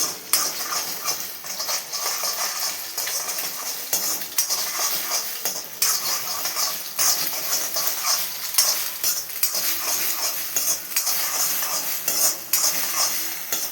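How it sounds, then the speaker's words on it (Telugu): Egg frying in a pan while it is stirred, a steady close sizzle with continuous scraping and clinking of the utensil against the pan, as egg noodles are cooked. "చూడండి ఎగ్ ఫ్రై అవుతుంది కదా కొంచెం ఫ్రై చేస్తాను"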